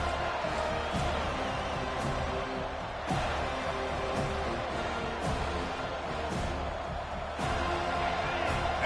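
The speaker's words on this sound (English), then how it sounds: "this crowd coming to life here, trying to help the defense get a stop with the offense pinned back" Stadium crowd in the College Football 25 video game, a dense, steady roar of many voices filling the space, with periodic thumps and surges recurring every second or so.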